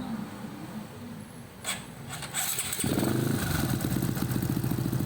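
A Honda XRM 125 motorcycle with a 57mm bore and a converted four-valve head starts up, its single-cylinder engine catching and then idling in a steady, fast putter, close and fairly loud.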